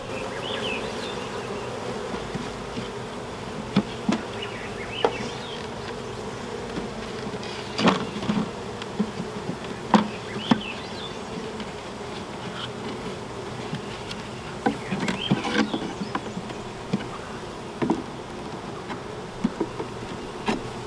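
Honey bees around an opened hive during an inspection, their steady buzzing drone filling the background throughout, with scattered light taps and clicks of frames and equipment over it.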